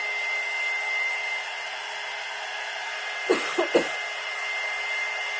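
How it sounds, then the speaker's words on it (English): A hair dryer blows steadily on freshly layered paint on a window craft made of paint sticks, a constant close whooshing hum with a few brief knocks near the end. "let's hit it with the dryer."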